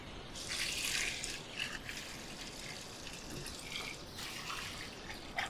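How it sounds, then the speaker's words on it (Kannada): Water pours steadily into a cooking pot holding lightly roasted drumsticks for a biryani, a soft continuous splashing stream at close range with no voices. "ಈಗ ಪಾತ್ರೆಯೊಳಗೆ ನೀರು ಹೋಗುವ ಸಮಯ."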